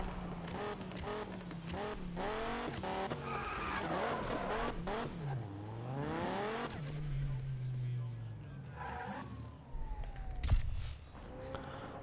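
Car tires skid and squeal through a handbrake turn in the Need for Speed video game, with rising and falling engine revs and a long screech, followed by a sharp impact near the end.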